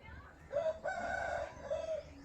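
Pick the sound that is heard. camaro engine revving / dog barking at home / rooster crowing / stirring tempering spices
rooster crowing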